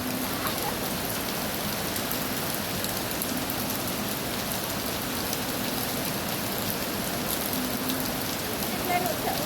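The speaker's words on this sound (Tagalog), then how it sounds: "May ulan, may ulan." Steady rain pours down in a constant hiss of falling drops hitting surfaces, with faint voices in the background throughout.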